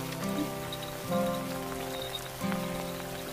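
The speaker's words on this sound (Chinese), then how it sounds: "又下着雨" Steady rain falls on an evening in an ancient Chinese period setting, a dense even hiss of drops with soft musical tones rising and fading underneath and no voices.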